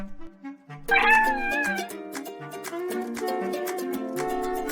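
The cat sprite in a Scratch program plays a recorded cat meow, one loud rising cry that leads into bright, steady background music.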